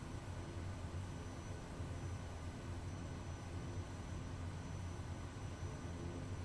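A bush plane's engine drones in Microsoft Flight Simulator, a steady, broad, unchanging roar at moderate level with no voices.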